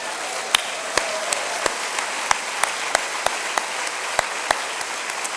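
A church congregation claps together steadily during a Spanish-language worship service, a dense wash of applause with sharper individual claps popping out at a fairly regular beat.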